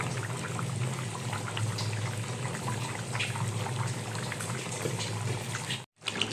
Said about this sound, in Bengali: অল্প কিছুটা সময় আমি ফুটিয়ে নিচ্ছি, ফুটিয়ে ঝোলটা আর একটু শুকিয়ে নেব।